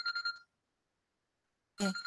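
A telephone rings in a classroom setting, a short burst of electronic trilling, a silent gap, then a second louder ring.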